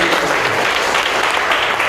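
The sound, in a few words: applause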